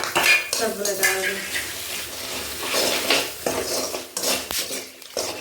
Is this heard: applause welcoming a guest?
no